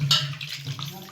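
Water runs and splashes over a metal idol being washed during a home puja, a close, steady rinsing sound.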